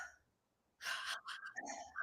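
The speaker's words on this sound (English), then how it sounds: "is called holotropic breath work." A person demonstrates holotropic breathwork with forceful, rapid breaths: loud, breathy rushes of air in quick pulses, close to the microphone, after a short quiet pause, with no speech.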